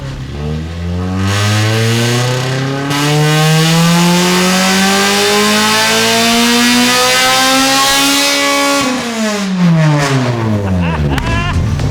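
A K-swapped Honda Civic engine revs hard on a dyno, its pitch sweeping steadily upward over several seconds to a loud sustained peak, then dropping sharply as the throttle closes.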